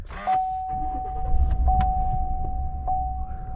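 A 2019 Chevy Silverado 1500 pickup powering up after a battery replacement, with a short ignition click followed by a steady electronic chime tone running throughout over a low, close cabin rumble.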